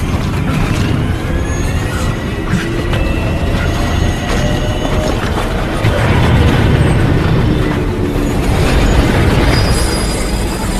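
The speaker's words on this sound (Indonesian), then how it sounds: "sialnya kereta mulai berjalan" A commuter train starts to move, heavy rolling rumble with metallic wheel squeals and clanks building over a steady loud drone.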